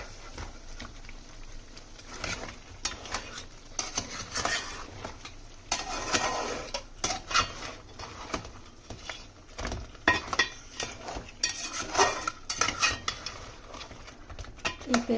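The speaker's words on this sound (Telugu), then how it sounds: "ఇలా మొత్తం ఒకసారి మిక్స్ చేసుకుందాం." Crab curry is stirred in a pan with a spoon or ladle, giving repeated scraping and clinking against the metal over a low sizzle, in irregular bursts throughout.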